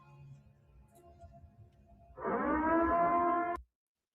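A sustained siren sound effect cuts in abruptly over a faint low background, holding a loud, steady harmonic wail for about a second and a half before stopping dead.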